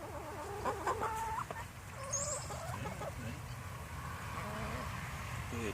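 Cochin chickens given grape treats cluck and squeal in a busy, continuous chorus with some close, some farther off, while people talk intermittently over them.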